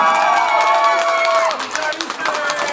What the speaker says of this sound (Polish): Poproszę wielkie brawa dla Martyny